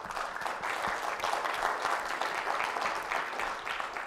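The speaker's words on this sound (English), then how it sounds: "he deserves another round of applause." A live audience gives a sustained round of applause at a talk on decentralized research data, with dense steady clapping filling the room for several seconds at fairly even loudness.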